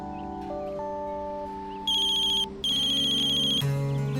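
Mobile phone ringing with an incoming call, an electronic melodic ringtone of repeating bright tones that starts partway in, loud and close over quieter background music, with no talk.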